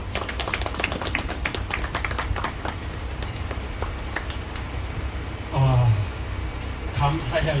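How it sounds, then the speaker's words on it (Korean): An audience at a public lecture held during a citizens' rally applauds with scattered, fairly sparse claps that fade out after a few seconds, followed by a voice speaking. "뜨겁게 박수 한번 해주시기 바랍니다."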